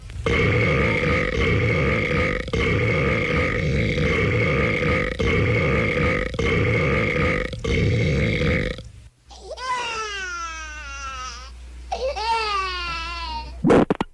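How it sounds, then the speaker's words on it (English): A loud, low, rumbling belch drawn out for several seconds, followed by high babbling baby noises with a thin, telephone-like quality. "Take the baby, hold him close to the telephone, and let's hear him belch"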